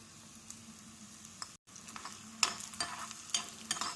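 Garlic tempering for a jackfruit-seed dal rasam sizzles in hot oil with a close, steady hiss. It briefly cuts out, then returns with sharper crackles and pops.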